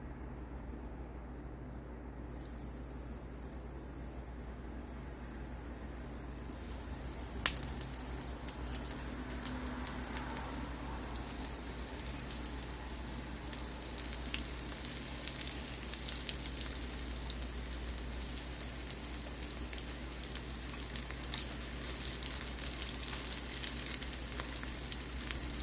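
Battered onion petals deep-frying in hot oil give off a steady, dense, crackling sizzle that holds throughout, with a few sharp pops and clinks, moderately quiet and close.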